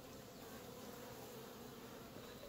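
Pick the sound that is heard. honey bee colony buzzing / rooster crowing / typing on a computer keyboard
honey bee colony buzzing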